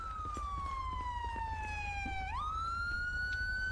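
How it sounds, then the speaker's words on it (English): A police car siren in the LSPDFR video game wails in a steady, sweeping tone that drops, then jumps up and holds, loud and continuous with no talking. "Right, I'm going to kill my siren."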